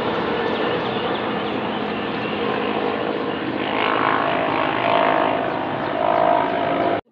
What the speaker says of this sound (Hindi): इसका तो शोर है हेलीकॉप्टर और इसका तो इतने पास से गया है